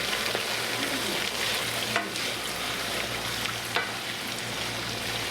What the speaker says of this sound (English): Let these things fry up till they're a golden brown.